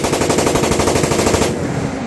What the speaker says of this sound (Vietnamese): giờ test thử cho nè, bắn thử cái này thấy sâu dập quá